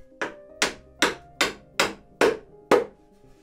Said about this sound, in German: dann mit einem Gummihammer, denn das geht nicht mit der flachen Hand, kommt der Kunststoffdübel wieder rein